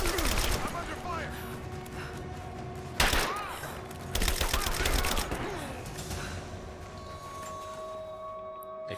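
Gunfire in the Tomb Raider remake, with bursts of shots and impacts over a steady game soundscape, loud cracks near the three- and four-second marks.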